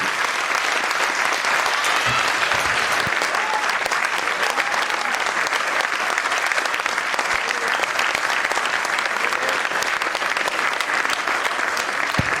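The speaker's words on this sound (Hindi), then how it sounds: "आप सभी की तालियों की गड़गड़ाहट के बीच आपको बताना चाहेंगे" A large audience applauds after a Hindi stage play, sustained dense clapping at an even, loud level throughout with no break.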